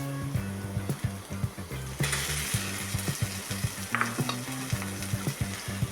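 Ground spice paste hitting sautéed onions in a hot pan, a dense close sizzle with rhythmic scraping and knocking of a stirring spoon, steady and fairly loud throughout, no voices.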